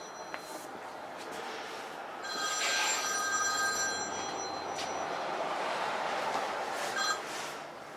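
An old-style telephone bell rings in bursts inside a workshop, the rings fairly clear over a low background hum, with no talking.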